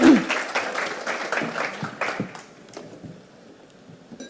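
An audience at a spiritual conference breaks into a burst of applause that stays loud for about two seconds, then thins into scattered claps and fades away.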